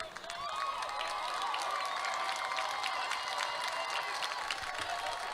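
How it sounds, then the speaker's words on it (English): A crowd at a high school state semifinal baseball game applauds and cheers steadily, a dense wash of clapping from the stands that holds for several seconds. "A big round of applause."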